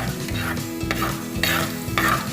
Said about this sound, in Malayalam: ഈ വെളുത്തുള്ളിയുടെയും ഇഞ്ചിയുടെയും ഒരു പച്ചമണം മാറാൻ വേണ്ടിയാണ് നമ്മൾ ഈ എണ്ണയിലിട്ട് കുറച്ച് നേരം ഇളക്കുന്നത്